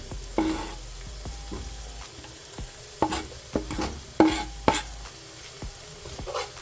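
Garlic and thyme tossed into hot oil, giving a continuous sizzle broken by several sharp scrapes and knocks of stirring against the pan, close and clear with no speech.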